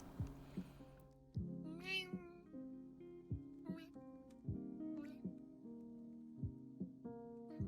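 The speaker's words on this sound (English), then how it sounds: "Cat." A cat meows several times in short, separate calls, near and fairly loud, with people talking between and around the meows.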